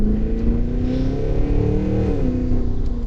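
A powerful Cadillac Escalade V Spec V8 SUV engine rumbles steadily and loud, with deep low throbbing and rising, falling revs, close by and without any talking.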